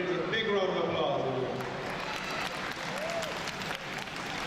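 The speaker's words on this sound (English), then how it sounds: "Let's give all the organizers and the volunteers a big round of applause." Audience applause at a Tamil community event, the Eelam Pavilion 2013, honoring its organizers and volunteers; steady clapping fills the room for several seconds while a voice speaks over it near the start.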